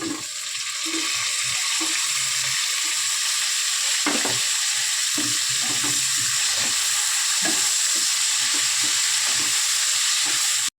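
Steady, loud sizzling of tomatoes frying in hot oil, with occasional stirring scrapes and clicks throughout, no voices.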